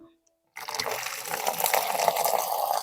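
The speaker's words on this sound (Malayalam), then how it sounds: "അതിനകത്തേക്ക് ഞാൻ പത്ത് ലിറ്റർ വെള്ളം ആഡ് ചെയ്യാനായിട്ട് പോവാണ്" Water from a tap pours steadily into a container holding fresh cow dung for slurry, a close gushing fill that starts abruptly after a moment of quiet.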